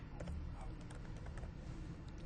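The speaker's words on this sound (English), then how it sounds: "you can start typing it in." Quick, light clicks of a computer keyboard as someone types in an imaging order request, close but faint over a steady low hum.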